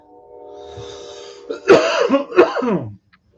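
A man coughs hard twice in a row, loud and close to the microphone during a casual holiday livestream, the harsh bursts following a brief hum of voice and ending abruptly.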